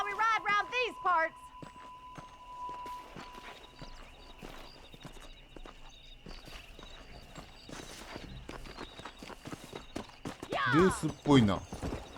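Horse hooves clip-clopping during a race in the video game Red Dead Redemption, a steady rhythmic gait running under game dialogue and commentary, with a neigh near the end.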